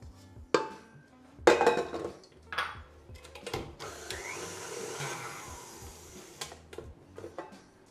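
An electric stand mixer whirs steadily for several seconds, beating lemon icing for a layer cake, joined by loud clatters of bowl and utensils near the start and sharp knocks scattered throughout.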